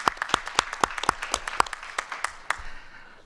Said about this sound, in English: the next applause that I want is for you, the attendees